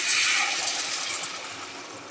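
A continuous hissing rush of water streaming into a pot of boiled potatoes, bright and close, gradually easing off toward the end.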